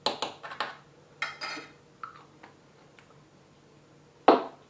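Spoon mixing butter cream in a bowl, with several sharp clinks and taps against the bowl in quick succession, a pause with faint scraping, then one loud knock near the end.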